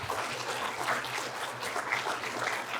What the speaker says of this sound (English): can we give one more round of applause for our first 5 who have gone so far?